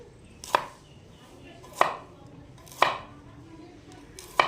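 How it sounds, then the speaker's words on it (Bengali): A knife chops turmeric into small pieces on a board, giving four sharp, evenly spaced thuds about a second apart, close and clear, with no talk over them. "হলুদটা কেটে ছোট ছোটো করে নিচ্ছি"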